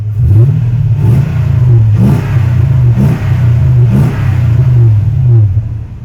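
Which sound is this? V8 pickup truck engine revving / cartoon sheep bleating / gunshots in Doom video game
V8 pickup truck engine revving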